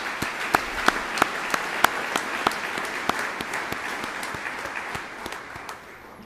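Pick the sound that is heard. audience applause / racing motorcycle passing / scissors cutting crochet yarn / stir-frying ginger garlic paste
audience applause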